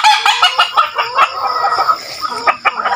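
Chickens clucking close by in a farmyard, a busy run of short, repeated clucks and squawks from several birds at fairly loud level, with no talking.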